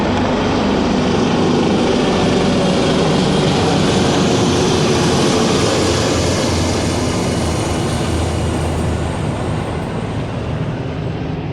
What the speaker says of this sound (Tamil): கடைசியாக எங்களுக்காகவே வந்து இந்த ஹெலிகாப்டர் போன மாதிரி இருந்துச்சு